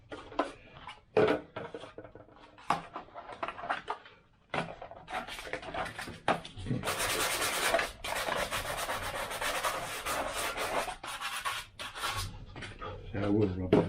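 Sandpaper rubbing over a model aircraft fuselage part, with scattered brief scrapes early on, then a longer run of steady, close rasping strokes.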